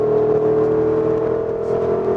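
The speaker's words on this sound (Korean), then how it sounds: "속도를 좀 끌어올리고요. 제동, 턴, 가속을 쭉 하면서 나가 봅니다." A Porsche Cayenne Turbo GT with a 650-horsepower V8 accelerates through a corner, its engine a loud, steady, close drone from inside the cabin that holds without a break.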